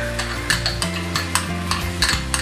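Ground onion paste for paneer butter masala goes into a hot frying pan, with a steady close sizzle, a few stirring scrapes and a constant low hum underneath.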